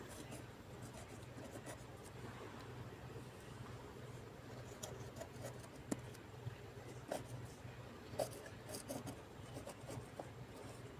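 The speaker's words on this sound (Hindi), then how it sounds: "अब उसी के बाद जुनैर का शेयर हम लिखेंगे" A pen scratches out a handwritten math solution on paper, faint soft strokes and taps coming in short bursts over a quiet room hum.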